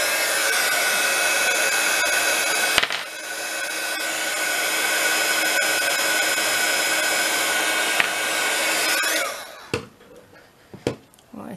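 A heat tool blasts shrink plastic in a loud, steady whooshing roar for about nine seconds, then cuts off, leaving faint handling taps and clicks.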